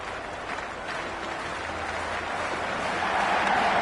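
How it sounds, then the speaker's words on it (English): Cricket crowd in the Cricket 26 video game for a Big Bash League match, Adelaide Strikers against Melbourne Stars, roaring and applauding in a steady wash of noise that swells slightly toward the end, with no voices over it. "this crowd is already making it hard for me to be heard"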